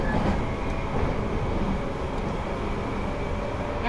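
A JR East Series 185 electric train runs along the line on its Odoriko 111 last run, a continuous, steady interior rumble of wheels and motors with faint clicks, heard from on board.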